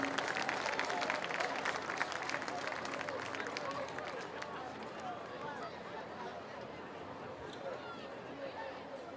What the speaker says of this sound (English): Let's have a nice round of applause for Jay Roden.